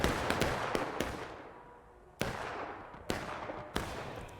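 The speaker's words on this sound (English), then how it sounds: "taking independent shots at the Union" Musket fire in a Civil War battle video game, with Confederate troops firing individual shots at Union lines from behind a stone wall: scattered sharp cracks, a few close and loud, separated by short gaps of fading rumble.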